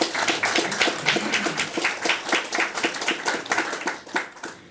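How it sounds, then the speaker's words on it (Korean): Clapping from a lecture audience welcoming a speaker to a forum, a moderate patter of hands at a fairly even rhythm, no voices over it. "큰 박수로 맞이해 주시기 바랍니다."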